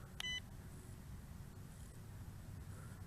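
A Holystone HS720G drone remote gives one short, sharp electronic beep as it takes a photo, clear near the start over faint room hiss, followed by a few softer, fainter tones.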